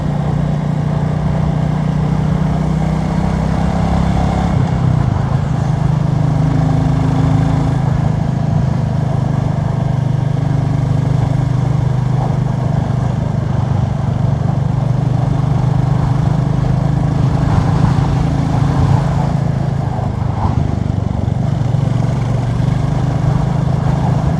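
The engine of a Royal Enfield Classic 350 drones steadily and loudly while riding, a continuous low thrum with slight pitch shifts as speed changes, mixed with wind noise.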